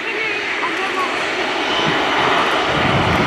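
A US Navy F/A-18C Hornet fighter jet roars overhead during a flying display at the Royal International Air Tattoo 2018, a loud, sustained engine rumble with a public-address commentator talking over it.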